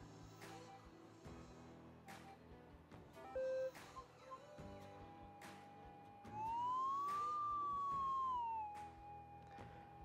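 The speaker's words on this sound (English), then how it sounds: "So I'm turning it on. It's going to start its auto tune." Minelab GPX 6000 metal detector running its auto tune: electronic tones and a brief beep over a hum, then a loud tone sweeps up in pitch and back down, ending in a steady electronic drone.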